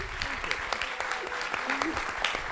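An audience at a Harvard Kennedy School event applauds Dean Elwood and the students, a moderate, even patter of clapping heard from within the room with faint voices underneath.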